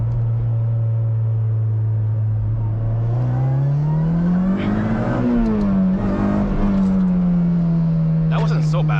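A car accelerating hard in third gear on a mountain touge road with the wheels spinning, its engine drone climbing steadily in pitch, easing back, then rising again, loud and close throughout.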